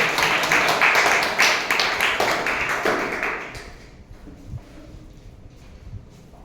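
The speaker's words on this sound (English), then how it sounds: "Let's have a big round of applause." A Toastmasters meeting audience claps in a room, loud and dense at first, then thinning to scattered claps as it fades over several seconds.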